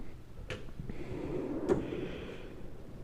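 A Snap-on KRL761 toolbox drawer slides open with a metallic rolling rumble, marked by a couple of sharp clicks along the way, close and alone.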